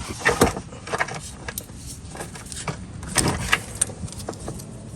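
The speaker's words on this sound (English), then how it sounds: "just using the standard 3/8 drive going at the fuel plug, and we're gonna remove it right now" A 3/8 drive ratchet working loose the rear differential fill plug on a Ford F-250/F-350 truck, with a series of close metallic clicks and clinks at uneven intervals against a quiet background.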